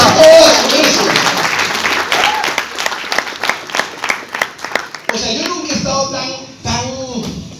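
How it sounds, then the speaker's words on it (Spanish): Audience clapping at a sales prospecting talk, moderately loud and fading into scattered individual claps, with a voice speaking over the later part. "Un fuerte aplauso para mí, por favor"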